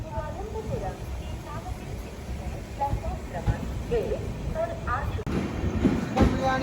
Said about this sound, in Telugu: స్టేషన్ నుంచి బయటకు వచ్చింది బండి.